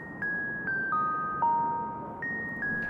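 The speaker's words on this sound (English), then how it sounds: "I'll ring the doorbell." A chiming doorbell plays a descending sequence of tones, each struck note ringing out and fading, over a faint background hiss.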